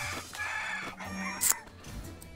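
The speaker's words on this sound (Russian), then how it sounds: "Ты посмотри, целая орда этих петухов." Cartoon roosters in the mobile game South Park: Phone Destroyer crow and cluck in a quick flurry over busy game background sounds, with one louder squawk partway through.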